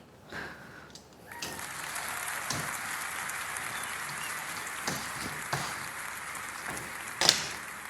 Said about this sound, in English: Hey Google, clap for me.